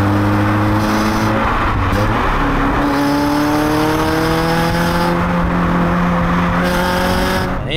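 A 2005 Renault Clio 182 Trophy driven hard through a corner, its engine loud and close as the revs climb and fall in repeated sweeps through the gears, with some tyre noise and no talk.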